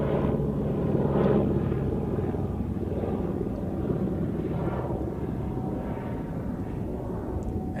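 A jet airliner takes off from runway 16 at Zurich Airport, its engines a broad, steady roar that swells and fades gently across several seconds, heard from a distance with no speech.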